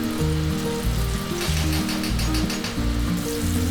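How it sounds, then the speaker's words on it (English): Goan Recheado masala spice paste frying in hot oil in a pan over a medium flame, giving a steady, close sizzle with faint stirring scrapes and a low background hum throughout. "simply fry the masala for about 4 to 5 minutes on a medium flame, until the spices and chilies are nicely cooked"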